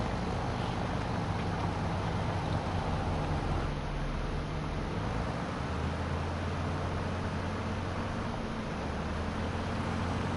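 Tractor engine in Farming Simulator 25 laboring under load, a steady, dense low drone with a rumbling undertone that holds throughout and no voices.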